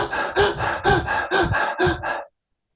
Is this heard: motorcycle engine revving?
no